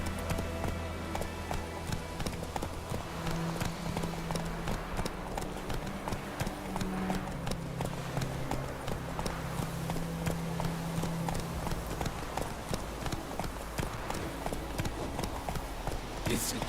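Horse hooves clip-clopping in The Witcher 3 video game, a fast steady rhythmic clatter of a galloping mount running without pause, with voices talking over it at times.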